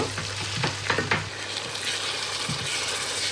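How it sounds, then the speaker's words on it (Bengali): Onions and whole spices with a pinch of salt fry in oil, a steady close sizzle broken by a few scraping stirs early on, then a continuous hiss with no voices. "আমি তেলে হচ্ছে গোটা মশলাগুলো দিছি আর পেঁয়াজ আর সামান্য একটু লবণ দিয়ে এবার পেঁয়াজটা একটু ব্রাউন করে ভেজে নিব।"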